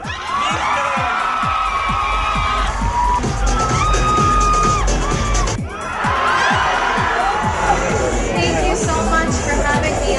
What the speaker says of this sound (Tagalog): Masigabong palakpakan at hiyawan ang sumalubong kay Leighton mula sa kanyang Filipino fans